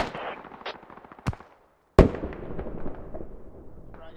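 Gunfire in the military shooter game Squad, a few sharp cracking shots, one near loud report, and a rapid rattle of distant fire echoing across the battlefield, with quiet gaps between.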